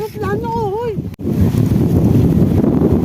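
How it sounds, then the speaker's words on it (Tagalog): Strong wind in a park buffets the microphone with a loud, rough rumble of gusts. A voice is heard briefly at the start before the wind noise takes over. "Grabe, lakas ang hangin."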